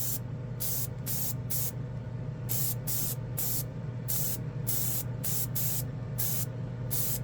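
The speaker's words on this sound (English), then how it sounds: "let's see how it sprays on a spoon." Testors airbrush spraying paint onto a spoon, heard as repeated short hissing bursts of about half a second each, twelve or so in a steady rhythm over a constant low compressor drone.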